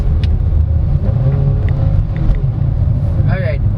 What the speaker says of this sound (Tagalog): Finally driving the Kia Soluto EX.